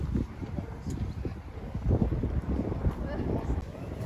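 Early-morning wind gusting at Petra before dawn, a steady rumbling buffet of wind noise across the microphone with voices talking over it.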